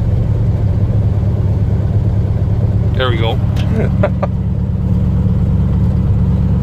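A pickup truck engine idles steadily in a hay field, with a close, constant low rumble running throughout while a voice speaks briefly over it.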